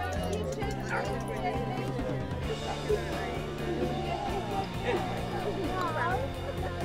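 A dog barks a few times amid the busy outdoor crowd of a charity fun day dog show, with people talking nearby throughout.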